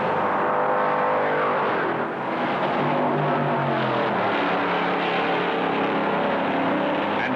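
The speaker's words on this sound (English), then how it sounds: "Andretti, Derringer, and Hutcherson are still running" Stock cars from the 1967 Daytona qualifying race roar around the speedway in a steady, dense engine drone, loud and continuous throughout with a brief dip in the middle, with no talk.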